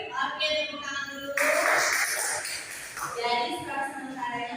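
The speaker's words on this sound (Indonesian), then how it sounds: "Oke, tepuk tangan dulu." Pupils in a classroom break into a short burst of applause during a science lesson quiz, with talking before and after the clapping.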